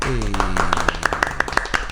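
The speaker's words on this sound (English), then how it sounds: "Everybody pause and clap for this man." On a casual podcast, a voice opens, then a small group claps in quick, regular bursts for a climbing instructor, close and bright, with talking and vocal sounds running alongside.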